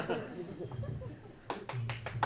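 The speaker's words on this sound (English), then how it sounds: "clap a little bit more." A comedy club audience claps in a few short bursts after a stand-up comic's line, scattered close claps over a low murmur with someone talking before them.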